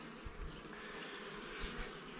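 Honey bees hum steadily inside a hive being worked by a beekeeper, a dense, continuous buzzing drone that stays fairly quiet and even throughout, with no voices.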